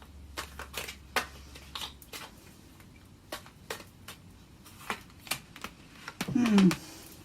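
Tarot cards shuffled and handled in short, sharp riffling bursts and soft slaps, quiet and close, with a brief voice-like murmur near the end.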